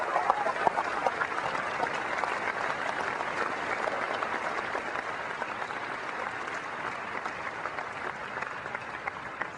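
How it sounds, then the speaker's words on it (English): Sustained audience applause fills a large keynote hall at Macworld New York 2001, a dense, steady wash of clapping from a big crowd that holds at an even level throughout with no talking over it. "I would like to ask you to give me a round of applause for their families"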